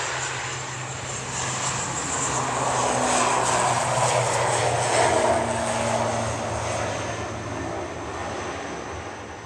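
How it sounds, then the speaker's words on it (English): Aurigny airliner departing Manchester Airport for Guernsey, a steady engine roar that swells toward the middle and eases off slightly, heard at a moderate distance throughout. "Aurigny departing to Guernsey"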